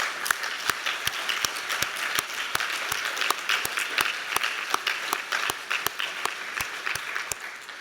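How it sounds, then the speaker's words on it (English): Conference audience claps for the speakers in a full, sustained round, with a few sharp, close hand claps standing out at a fairly regular rhythm over the general applause. "So just sort of a round of applause for them."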